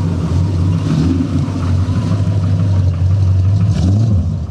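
Classic American car at a US car show pulling away, its engine giving a deep, loud, throaty rumble that swells as it revs and moves off, close by and continuous.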